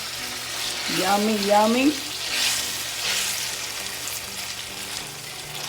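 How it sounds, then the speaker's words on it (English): Paella ingredients sizzle in a pan as they are stirred, with a continuous close frying hiss and occasional scrapes; a voice speaks briefly over it early on. "I'm gonna stir this around so it can get flavored all sauced in"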